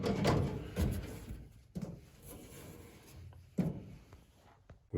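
Drawers of a socket tool chest sliding open and shut several times with thunks and rattles, close and fairly loud, with a last knock right at the end.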